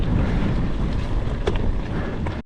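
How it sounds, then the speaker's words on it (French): A strong headwind buffets a cyclist on a road ride around Mont Saint Aubert, Belgium, as a loud, steady roar of wind noise that lasts the whole time with no voices. "Il y a vraiment un gros vent de face là."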